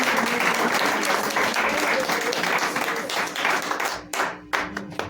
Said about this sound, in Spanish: De una ofrenda de palmas al Señor